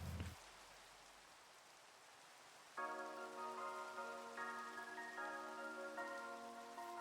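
Rain falling in the video game Minecraft, a soft, steady patter heard faintly, briefly overlapped at the start by a short thump and later joined by sustained tonal music.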